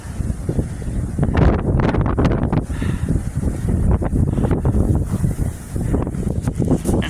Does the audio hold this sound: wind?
yes